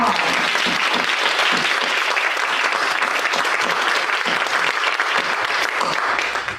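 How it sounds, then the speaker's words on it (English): A community audience at a church gathering on Alzheimer's gives sustained, loud applause that holds evenly for several seconds before trailing off at the end. "Again, let's give them a round of applause."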